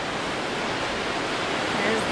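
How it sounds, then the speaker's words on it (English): Wild ocean waves at Shell Beach make a steady, loud, broadband roar of surf that washes on continuously without any clear breaks. "The waves are wild today, just wild."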